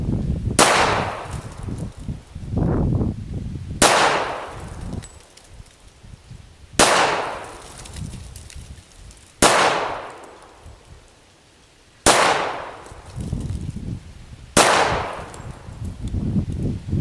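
Smith & Wesson M&P45 pistol firing 230 grain full metal jacket rounds at 7 yards, six loud, sharp single shots spaced a few seconds apart, each with a ringing outdoor tail.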